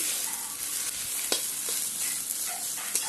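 Boiled kharkol leaves are fried and stirred in a pan until dry, making a close, continuous sizzle and hiss with brief spatula scrapes. No voices.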